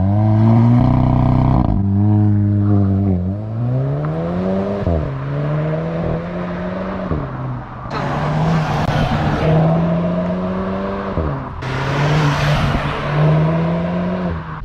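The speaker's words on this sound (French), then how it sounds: "Quand t'accélères, la voiture elle tire un peu" A 245 hp Volkswagen Golf 8 GTI accelerates on a test drive, its engine note climbing through repeated revving surges and gear changes. The engine sounds loud and close, and no one speaks.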